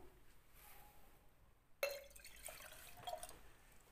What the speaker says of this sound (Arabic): وهننزل عليهم بالميه الدافيه بالميه الدافيه اهو